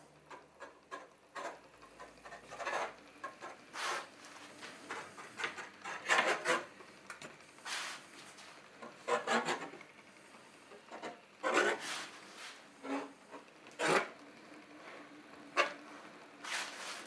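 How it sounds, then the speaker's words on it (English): An edge bander applying edging to a wood panel during a campervan shower and toilet room build gives quiet, repeated rubbing and scraping strokes in an irregular rhythm, close by with no talk. "That's done with the edge bander."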